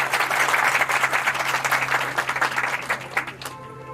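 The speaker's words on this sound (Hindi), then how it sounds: "मैं चाहता हूँ कि तालियां बजाएं इनके लिए।" An audience at a Virtual University of Pakistan orientation class in Khanpur claps together in a full, lively round that fades out abruptly near the end.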